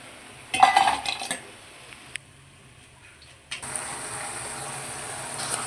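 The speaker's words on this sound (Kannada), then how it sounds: "ಈಗ ಗೋಬಿ ಬೆಂದೈತೆ, ಎತ್ತಾಕೋತಾ ಇದ್ದೀನಿ." Fried cauliflower gobi lifted out of hot oil, with metal spoon clinks and scraping against the pan for the first second, then a quiet gap, then a steady soft sizzle of oil that continues to the end.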